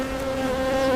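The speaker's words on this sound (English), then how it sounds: "it kind of jars the bees around and" Honeybees swarm airborne right after a queen excluder is lifted off a backyard hive, a steady, close, droning buzz with a strong hum that holds level and grows slightly louder throughout, with no talking.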